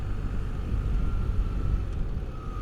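A BMW 1300GS Trophy Edition motorcycle ridden in dynamic mode gives a steady, loud engine drone mixed with wind rumble, with a faint whine holding underneath throughout.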